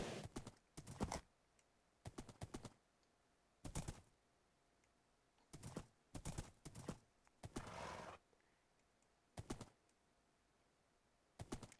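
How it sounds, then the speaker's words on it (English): Hoof clops from a horse in a Minecraft-style survival game, arriving in short separated clusters of sharp taps across a quiet stretch, close and fairly clear. "I should be careful on this horse."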